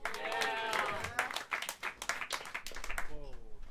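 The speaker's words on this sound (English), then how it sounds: "Keep the applause going to Pat Bianchi on Oregon." Brief audience clapping in a small, cozy New York jazz club, a scattered patter of hands that rises and thins out under someone speaking over a microphone.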